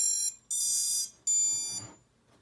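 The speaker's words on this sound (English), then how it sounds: "Don't know why it does 2 beeps sometimes." Three high electronic beeps from a 3-inch drone's flight controller, the first short and the next two longer, each ending abruptly, with quiet pauses between them.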